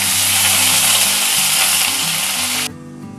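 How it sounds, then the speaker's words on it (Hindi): Ginger garlic paste hits a hot pan for a Himachali-style masala fish curry and sizzles loudly in a steady, close hiss that cuts off abruptly near the end, leaving only a faint low hum. "अब 1 चम्मच मैंने यहाँ अदरक और लहसुन का मैंने पेस्ट ले लिया है, इसको डाल दूंगी।"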